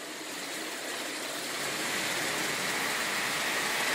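A Gilbert 3/16 O gauge Pennsylvania outline model locomotive runs with a smooth, steady whirring hum that grows slightly louder over a few seconds, faint and without talk.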